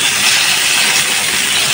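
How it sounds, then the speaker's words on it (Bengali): Fresh fish from a home pond fry in hot oil in a pan, giving a steady, loud, dense sizzling hiss that holds at a constant level throughout with no talking. "মাছগুলো আস্তে আস্তে ভাজি, হালকা একটু ভেজে তারপর তরকারিটা বসাই দিব"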